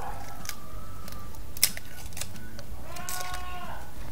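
Goats bleat a few times in the background, wavering cries over a constant low rumble of ambient noise.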